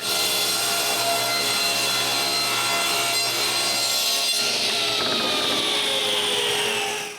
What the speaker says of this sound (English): The first thing to do is to cut a piece of plywood.